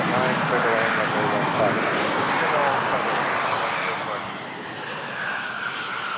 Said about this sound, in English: A321 coming in from Ottawa